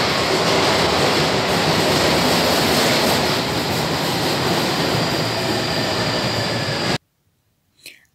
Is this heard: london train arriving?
yes